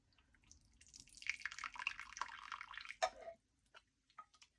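A small green cup is rinsed under running tap water, giving a soft, faint splash and trickle that builds for a couple of seconds, ends in a sharper splash, and is followed by a few scattered drips, with no talking.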